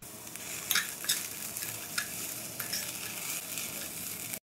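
Green peas and chopped cabbage sauté in a pan with a constant soft sizzle, broken by a few scraping stirs of the spoon, close and moderately quiet with no voices.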